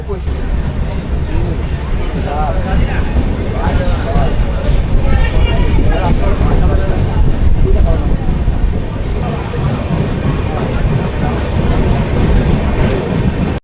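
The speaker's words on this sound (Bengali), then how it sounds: "দুটো স্টেশন পেরোতেই ট্রেন যেন নিজের ছন্দ খুঁজে পেল" The Kanchanjungha Express, a Sealdah–Silchar passenger train, rumbles along loudly and continuously, with rail clatter and a low murmur of passenger voices inside the carriage throughout.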